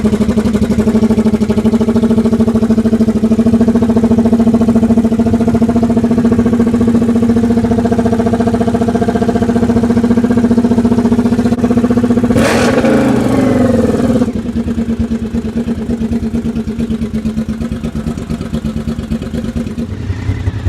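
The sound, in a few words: motorcycle engine started on choke, idling and revving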